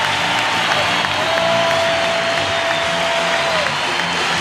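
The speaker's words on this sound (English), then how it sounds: "The crowd getting up for their big moment that they hope the Lakers can come back here" Dense arena crowd at the 1989 NBA Finals, Lakers versus Pistons, roaring and applauding steadily throughout, with a brief whistle-like tone riding over the noise.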